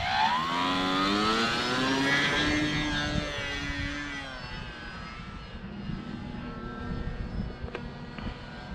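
An FMS Pitts 1400mm RC biplane's electric motor winds up to a loud, rising whine at takeoff, with clear shifting harmonics as it climbs away, then settles into a steady, slightly quieter drone as it flies off.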